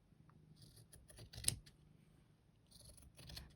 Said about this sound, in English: I'm just going to cut some strips all the way up to sort of where I did the stitching across.